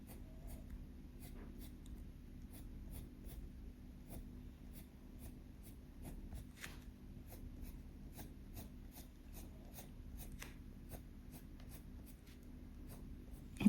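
A colored pencil flicks across paper in quick short strokes while coloring grass, producing faint, rapid scratchy ticks in an irregular rhythm over a quiet, steady background.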